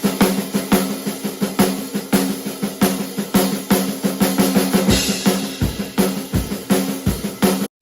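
Drum kit playing the intro to a rock song, loud and close, with sharp regular snare and tom hits and cymbals driving a steady fast pulse throughout.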